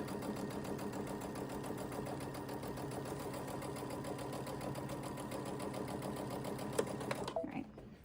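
A sewing machine with a J foot and its arm removed stitches a quilt block onto a sweatshirt, running as a fast, even mechanical chatter for about seven seconds before stopping abruptly.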